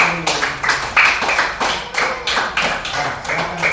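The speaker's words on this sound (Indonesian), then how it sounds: "berikan tepuk tangan dulu" Children in an Indonesian classroom clap together in a steady, rhythmic round of applause, loud and close, with sharp, evenly spaced claps throughout.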